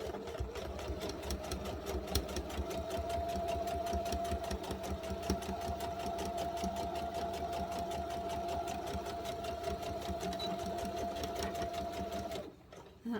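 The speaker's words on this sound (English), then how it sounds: "I'm just going to start sewing, and I always do a couple stitches and a back stitch" A sewing machine stitches fabric for a machine cover, running in one long close mechanical hum with rapid even needle clatter, then stopping near the end, with no talking.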